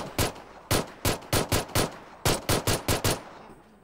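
Gunfire from PUBG on Xbox One: about twelve sharp, loud shots fired in two quick bursts, each crack ringing briefly, with no voices.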